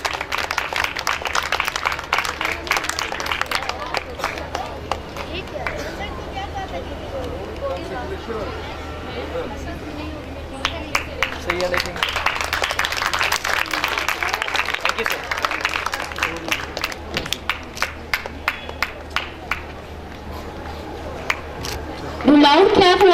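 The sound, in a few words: audience applause for speech competition winner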